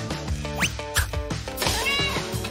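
Pet cat meowing repeatedly up close, several short tonal mews in quick succession followed by a longer drawn-out cry, over faint background music.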